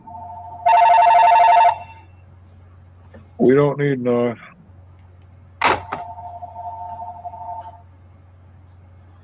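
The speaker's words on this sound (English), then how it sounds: "That's the phone in the next room." A telephone rings in the next room: one loud electronic ring, then someone speaks briefly, followed by a sharp click and a fainter, longer ring that trails on.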